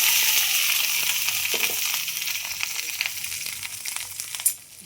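Okra frying in a little hot oil in a kadai, a close, steady sizzle that slowly fades, broken by scattered light scrapes and taps of stirring and one louder knock near the end.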